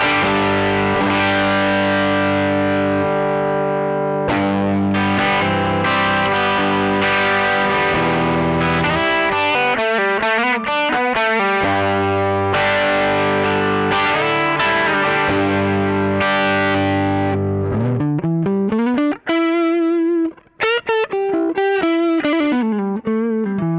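Electric guitar played through a Boss OD200 set to its Klon Centaur overdrive mode, with ringing sustained chords and single notes in mildly gritty drive, moving into bluesy bent lead phrases toward the end.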